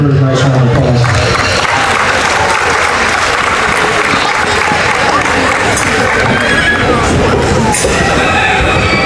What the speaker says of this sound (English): Let's give all those exhibitors a nice round of applause.